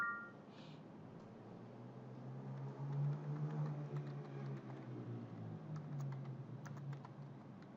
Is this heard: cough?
no